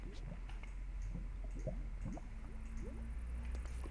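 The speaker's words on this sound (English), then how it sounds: "Lots of lava bubbling." Lava bubbles in a Minecraft game, a steady run of soft, wet pops and glugs over a low constant rumble, fairly quiet and with no voice.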